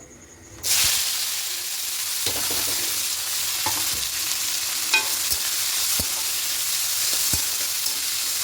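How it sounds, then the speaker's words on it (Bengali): Carrots and beans stir-fried with whole spices and bay leaf for vegetarian fried rice: a loud sizzle bursts in after a near-silent first second, then holds steady with scattered clicks and scrapes of stirring close by. "এবার হালকা নাড়াচাড়া করে একটু ভেজে নেব"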